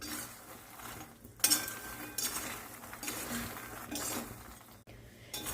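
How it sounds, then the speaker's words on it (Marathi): A spoon turns makhana chivda coated in oil and nuts from the bottom up in a metal pan, making soft scraping strokes and occasional clinks against the pan, quiet and close. "म्हणून आपण हे खालून वरती असं नीट पद चांगल्या पद्धतीने मिक्स करून घेऊ"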